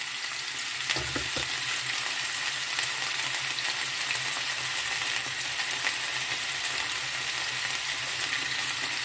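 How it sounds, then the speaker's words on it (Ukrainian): Potatoes fry in a pan for a meatless vegetable stew, giving a loud, continuous close sizzle with faint stirring clicks. No one speaks. "Сюди додаємо картоплю. Нам потрібно її обсмажити."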